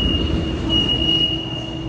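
A train near Shanghai Hongqiao station gives a steady, loud rumble with a thin, sustained high-pitched whine running throughout, heard up close and continuous with no talk.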